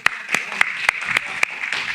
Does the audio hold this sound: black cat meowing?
no